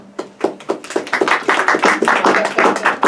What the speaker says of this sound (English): Please, you can applaud for this.